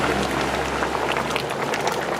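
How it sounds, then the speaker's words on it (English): Thick pork pelau bubbles steadily in a pot, a dense continuous popping and hissing at close range with no voices. "look how it's bubbling"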